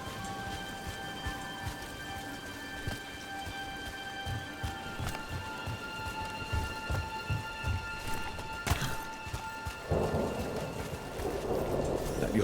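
Steady rain falls in a Dragon Age: The Veilguard game scene, a soft constant patter with low rumbles, faint steps and sustained tonal hums beneath; a brief louder burst near the end and denser wash after.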